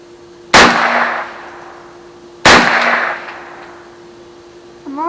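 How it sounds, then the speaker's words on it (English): .22 rifle fired at a watermelon outdoors: two sharp, loud cracks about two seconds apart, each trailing off in a short echoing decay over a faint steady hum. "We're going to be shooting the last one now."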